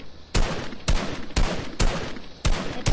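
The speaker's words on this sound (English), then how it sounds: "I'm shooting the supply drop down." Gunfire in Fortnite aimed at a supply drop: five sharp, evenly spaced shots ring out over about three seconds, loud and close, with no talking.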